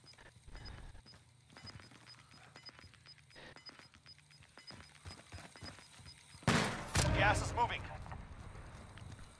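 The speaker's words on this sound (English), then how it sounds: "that was just the ammo box blowing up" An ammo box blowing up in Call of Duty Warzone: a sudden loud burst of crackling pops and debris after a stretch of quieter footsteps and clicks, then trailing rumble and rattles.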